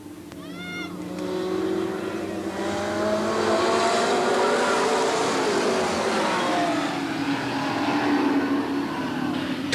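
Race cars roar around the oval at Eugene Speedway, their engines a steady, loud drone with rising and falling pitch as the pack passes, with a faint announcer's voice underneath.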